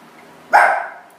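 A single dog bark, loud and close, bursts out in a quiet room and fades over about half a second.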